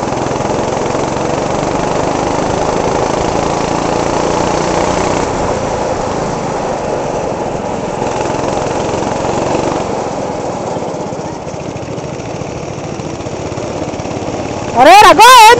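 Go-kart engines at a night karting track in Shamshabad, Hyderabad, droning steadily with a buzzy mower-like tone for the whole stretch and a sharper rising rev near the end, with people talking.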